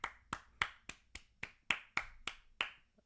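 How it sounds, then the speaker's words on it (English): A round of applause with about nine distinct, evenly spaced claps, crisp and close, each with a short decay and no other sound between them. "Okay, round of applause."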